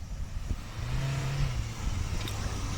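A Škoda 4x4 wagon's engine revs off-road, a mid-pitched drone rising and swelling steadily, fairly loud, with light crunches and knocks around it and no talking.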